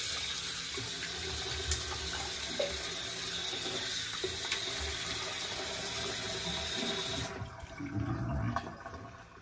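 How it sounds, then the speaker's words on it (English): Water runs steadily from a tap as a razor is rinsed under it, a loud continuous hiss and splash that cuts off sharply near the end, leaving a brief softer trickle. "let me rinse off."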